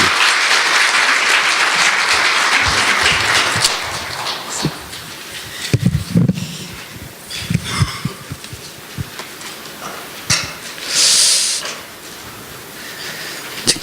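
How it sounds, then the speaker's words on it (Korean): Audience applause at a CEO forum on venture investment, a dense sustained clapping wash for about four seconds that thins into scattered claps and bursts, with a brief resurgence near the end. "박수 크게 한번 부탁드리겠습니다"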